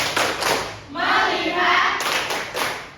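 Primary-school pupils perform the tepuk fokus clapping chant in a classroom: sharp group claps open and close a stretch of children's voices chanting in unison, nearby and fairly loud.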